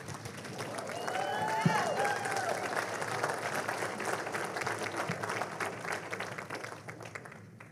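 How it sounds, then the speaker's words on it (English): Graduation audience applauding students at a 2022 ceremony, a broad steady wash of clapping held at moderate distance, fading slightly toward the end, with some crowd murmur and a brief whistle-like sweep early on. "Let's all give these awesome students a round of applause."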